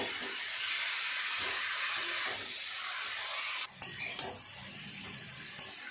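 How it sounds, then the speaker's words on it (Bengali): Boiled cabbage and potatoes with spices are stirred in a pan for a fish-head cabbage ghonto, a soft continuous steamy hiss with a few sharp utensil clinks near the end. "খুব ভালো করে মশলার সাথে বাঁধাকপি আলু এইভাবে মিশিয়ে নেব।"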